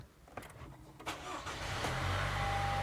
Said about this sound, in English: right now we're gonna start the car